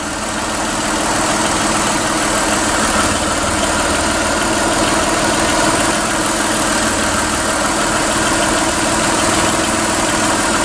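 A car engine idles steadily and close during an ignition system check, a continuous even rumble with no clear stall audible in this stretch.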